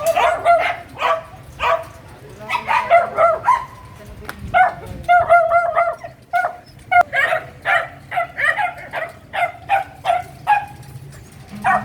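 Several dogs, including puppies, bark, yip and whimper in quick repeated bursts at a mobile refugee center in Quezon City, close and loud, with people talking in between.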